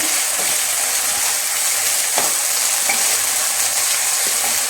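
Chicken frying with gongura leaves in a pan, a steady soft sizzle with occasional scrapes and clicks of stirring, close and fairly quiet, no talk.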